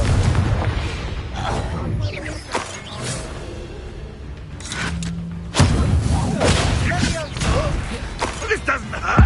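Blasting spell explosions boom and thud in a Hogwarts Legacy fight, heavy impacts landing amid dense combat clatter and creaks, with a voice talking over the action.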